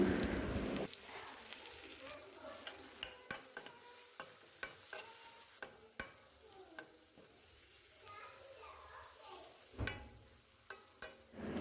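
Spices such as asafoetida and turmeric stirred into frying tomatoes in a pan, a low sizzle beneath a series of regular spoon scrapes and taps, close but fairly quiet, with louder stirring bursts at the start and end.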